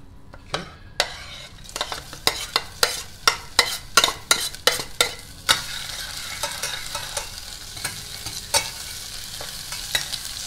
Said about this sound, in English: Keep stirring it to prevent it from getting burned.